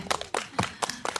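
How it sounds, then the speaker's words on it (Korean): An audience at a Korean special talk with an art director claps for a surprise guest: sharp, evenly spaced claps at a quick steady rhythm, a handful of bursts close by with no voices over them. "박수 부탁드립니다"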